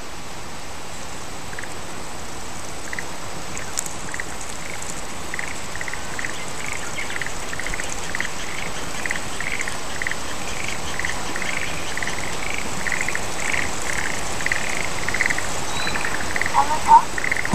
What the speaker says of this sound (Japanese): カエル鳴いてますね